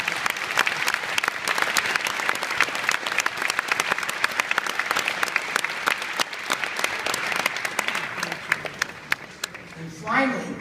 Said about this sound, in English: Would you all give them another round of applause?